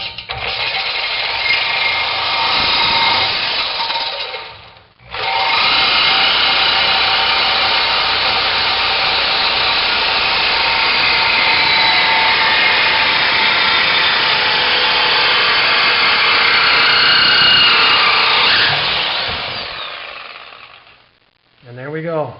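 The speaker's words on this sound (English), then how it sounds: "It's pretty loud under there with that saw." A power saw cuts through the left-side exhaust pipe under a 2003 Mustang Mach 1, a loud, steady grinding rasp that runs almost without a break for about twenty seconds after a brief pause early on.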